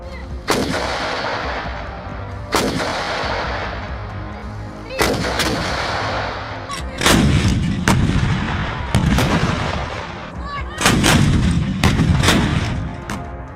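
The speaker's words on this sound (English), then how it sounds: "More Ukrainian artillery is audible before the video ends." Ukrainian artillery booms out in a series of about eight heavy blasts in war footage, some doubled in quick succession, each followed by a long rumbling echo that fades before the next.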